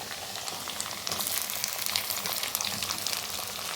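Chopped onion and tomato frying in hot oil, with a steady dense sizzle that swells a little louder after the first second and carries on close and even to the end.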